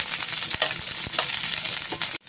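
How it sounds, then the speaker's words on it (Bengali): Large cut onion petals fry in hot oil for chicken do pyaza, giving a loud, dense sizzle close up, with scraping spatula strokes stirring through them before the sound cuts off abruptly. "আর ভাজা হয়ে গেলে এখানে দিয়ে দিতে হবে বড় বড় করে কেটে রাখা পেঁয়াজের পাঁপড়ি, দিয়ে একবার ভালো করে মিশিয়ে দিতে হবে।"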